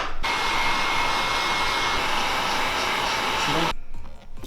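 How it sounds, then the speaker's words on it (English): A heat gun softens the gasket seal on a 9th-generation Honda Civic Si headlight, giving a steady, loud blowing roar that holds for about three and a half seconds and then cuts off. "So you're gonna need a heat gun to do it, or you can use a oven."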